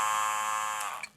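A cordless Andis Master hair clipper runs with a high, harsh buzzing drone, steady and close for about a second before tapering off.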